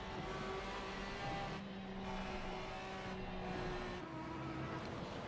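A Porsche race car runs at Kyalami during a GT Americas round, heard as a steady, distant engine drone in a constant roar with slight swells in level throughout.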